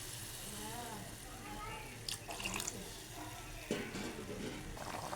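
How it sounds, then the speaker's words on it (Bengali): Water is poured into an egg and potato curry simmering in a pan, a soft, quiet splashing with faint sizzling and light stirring underneath. "এখন আমি একটু জল দিয়ে দিলাম।"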